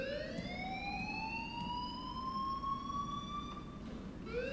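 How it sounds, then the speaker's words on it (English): A shrill electronic alarm wails in long, slowly rising tones, loud and continuous with no voices over it. "please turn off that alarm since that's your job"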